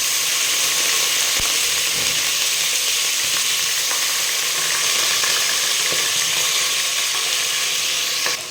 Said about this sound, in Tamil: ஆனியன் வந்து பார்த்திங்கன்னா நல்லா ஃப்ரை ஆகணும், டீப்பாக ஃப்ரை ஆகணும்